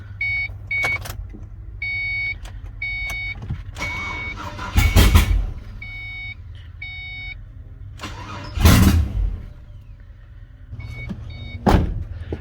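A 2010s Ford S197 Mustang with a swapped-in GM LS V8 cranks in several short bursts, a loud close starter whir and churn between pauses, while repeated electronic chime beeps sound throughout.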